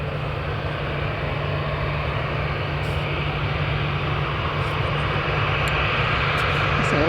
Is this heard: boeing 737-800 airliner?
yes